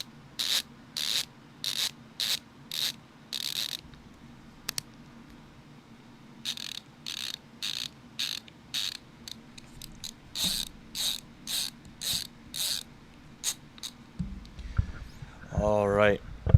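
Linus Tech Tips ratcheting screwdriver clicking through its ratchet mechanism, rapid bursts of close, crisp clicks in repeated runs with short pauses between, loud and alone.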